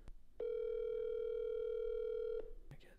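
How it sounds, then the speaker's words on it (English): A phone placing a call on speakerphone gives a steady, unbroken dial tone for about two seconds. It is clear and close, followed by a short click and a faint rustle. "Call Francisco on speaker"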